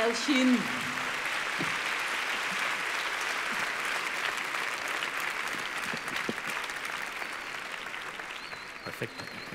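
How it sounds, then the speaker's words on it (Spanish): Sustained audience applause at a Mentes Brillantes 2014 talk, with a short voice at the start, then a steady, even roar of many hands clapping that runs on throughout. "un aplauso para ella por haberse atrevido"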